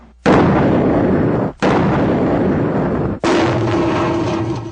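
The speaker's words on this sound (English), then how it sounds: "It's simulating what can happen to someone if a bomb were to go off near an office." Three huge, roaring blasts from a bomb blast mitigation test in quick succession, each a sustained, loud rumble that fills the space before the next one hits.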